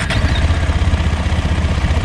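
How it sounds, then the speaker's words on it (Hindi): A KTM Adventure 250 motorcycle idles close by with a steady, even low thrum from its exhaust, rhythmic and unbroken for a couple of seconds with no talk over it. "शुरू करेंगे पहले KTM को ऑन करके to show you the engine sound and the exhaust note."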